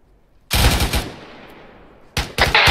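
Automatic machine gun fire in the military shooter game Arma 3, loud sustained bursts at close range that start abruptly, fade into a decaying echo, then resume with renewed rapid bursts.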